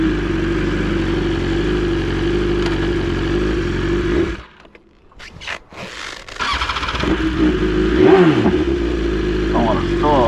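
BMW S1000RR sport motorcycle engine on a ride, loud steady drone that dips briefly around mid-clip, then builds again with rising revs and wind noise, heard close from the rider's position.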